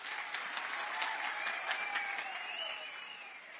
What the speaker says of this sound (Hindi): मैं तालियों की गड़गड़ाहट से पहचान लेता हूं कि आपके मन के अंदर कितना हर्ष और उल्लास है।